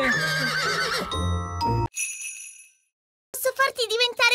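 A cartoon pink unicorn neighs in a stable kept with cows, a bright whinny with clip-clop and jingle touches after a short musical sting, followed by a silent gap and then another whinnying voice.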